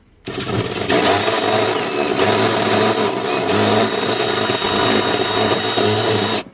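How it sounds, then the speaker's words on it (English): A power drill whirs loudly and continuously for several seconds, its motor pitch wavering slightly as it bites into the metal floor of a 2007–2013 Chevy/GMC truck, then stops abruptly. "So let's go ahead and drill into that."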